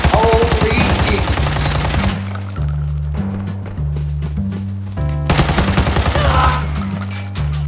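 Loud rapid automatic gunfire erupts in bursts during a firefight against a bot squad in the shooter game Arena Breakout, with short pauses between volleys and a low rhythmic music bed underneath.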